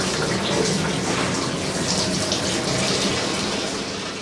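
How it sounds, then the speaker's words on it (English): A hot mixture of melted beeswax and water pours through a straining cloth into a wooden tub, making a steady, loud rushing splash that continues without a break and eases slightly toward the end. "the hot wax-water mixture runs into a wooden tub"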